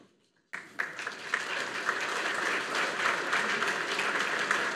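An audience applauds to welcome a keynote speaker, a Marine Corps lieutenant general, at a conference: steady, dense clapping that starts abruptly after a short silence and holds loud and even throughout.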